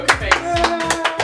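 A sarcastic round of hand claps, with a few slow, sharp claps sounding close over a music track that has a singing voice.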